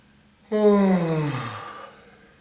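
A single long yawn, a person's voice imitating the sound: a sudden breathy onset sliding downward in pitch and trailing off into a sigh.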